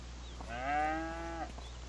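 A single cow moos in the Farming Simulator 25 video game, one drawn-out, fairly close low call lasting about a second over a quiet steady hum.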